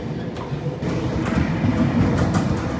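A 55-year-old passenger train runs toward Gosford past Hawkesbury River, with a steady close rumble of wheels and carriage noise that grows slightly louder partway through.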